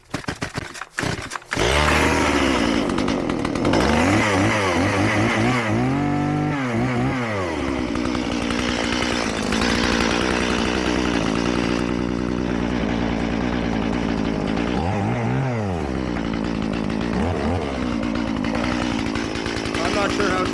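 Milwaukee M18 cordless chainsaw powered by a Forge battery, running loud and close with its motor whining and surging as it revs up and down through repeated bursts, voices briefly heard at the start.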